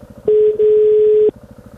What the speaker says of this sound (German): werde ich jetzt mal einen Telefonanruf tätigen